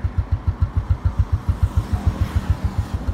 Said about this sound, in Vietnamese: Chỉ nghe tiếng bô thôi.